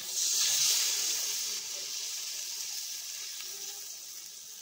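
Water poured into a hot pan for a thin Bengali snakehead fish curry with aubergine and potato hisses and sizzles loudly at first, then settles into a softer, steady steamy hiss.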